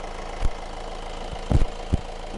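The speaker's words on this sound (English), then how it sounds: "I'm going to leave the engine running for the moment just to get it up to full operating temperature" A Honda CR-V engine idles with a low, steady hum and a few soft thumps and knocks, fairly quiet and heard close by with no talking.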